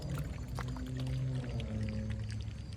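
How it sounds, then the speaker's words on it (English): Raptor Liner paint being stirred and mixed for a 2003 Ford Mustang, a steady thick churning and sloshing with faint clicks, close and continuous, no talk. "ASMR paint mixing"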